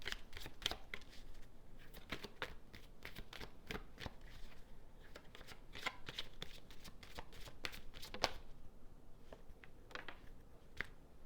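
A deck of cards being shuffled repeatedly, with crisp riffling bursts and snaps arriving in irregular clusters, close and fairly quiet, with no talking.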